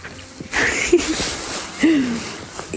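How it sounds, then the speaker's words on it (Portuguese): A humpback whale breathes at the surface, heard from shore, with two loud airy blows about a second apart, each ending in a low tonal moan, close and clear. "esse som é o som da respiração de uma baleia jubarte"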